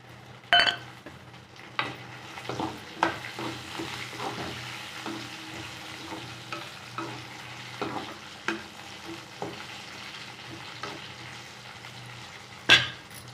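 Dried red chillies fry in a pan for pirandai chutney, a soft continuous sizzle under irregular spoon scrapes and knocks, with a couple of sharper clanks.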